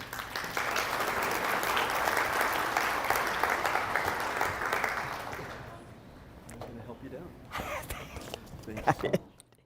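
A room full of guests at a fundraiser breakfast applauds loudly and steadily for about six seconds, then the clapping thins out into a few scattered claps and rustling.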